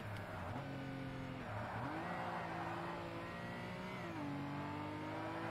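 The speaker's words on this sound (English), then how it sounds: "there's another fat Ferrari coming through, and it's coming on the inside" A Ferrari race car in Forza Motorsport roars close by, its engine note climbing and dropping through gear changes in a steady loud drone.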